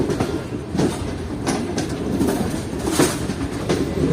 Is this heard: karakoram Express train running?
yes